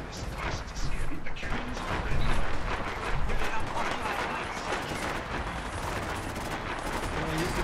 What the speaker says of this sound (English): You know, fire the cannons.